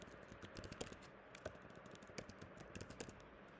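Quiet, steady typing of code on a computer keyboard, with rapid light key clicks in an even rhythm and no talk over it.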